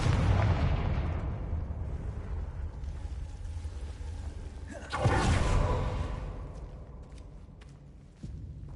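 The Confringo blasting spell fires in the video game Hogwarts Legacy, a sharp whooshing burst followed by a booming, rumbling explosion, after a deep low rumble and before a fainter second thump.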